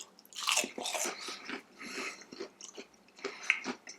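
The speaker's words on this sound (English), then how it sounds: "The panko breadcrumb adds a bit more of a crunch than the regular breadcrumb we used for the mozzarella sticks." Someone bites into crunchy panko-breaded fried cheese, producing several loud close crackling crunches followed by chewing.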